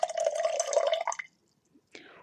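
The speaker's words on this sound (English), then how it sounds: "We pour that into a cocktail shaker." Dry vermouth and cranberry juice pour into a cocktail shaker in a quiet, close ASMR spa setting: one steady trickling stream for about a second, then a brief pause and a short second splash.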